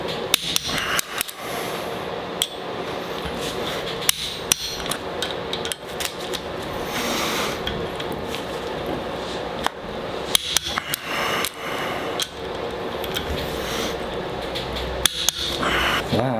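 Bolts on a Subaru STI engine being torqued to 90 foot-pounds in a vise, a series of sharp metallic clicks and knocks at irregular intervals over steady background noise.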